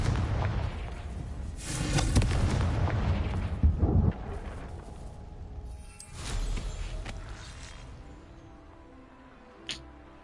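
Confringo blasting spell explosions in the Hogwarts Legacy video game, a series of loud booming bursts with rumbling tails, two large clustered blasts followed by a fading rumble and a brief sharp crack near the end, no talk.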